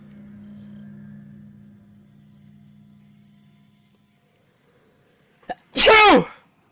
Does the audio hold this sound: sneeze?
yes